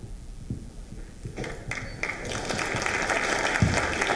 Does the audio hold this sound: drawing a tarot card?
no